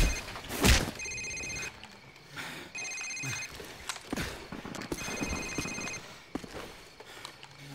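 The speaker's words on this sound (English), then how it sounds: "Sir, it's his cell phone." A cell phone rings in a Call of Duty 4: Modern Warfare safe house scene, repeated electronic ring bursts separated by short gaps, set against faint footsteps and room noise.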